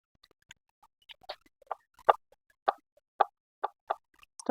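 Cut aar fish pieces being rinsed by hand in a bowl of water, giving a series of close, distinct watery plops and splashes at an irregular rhythm, with no talking.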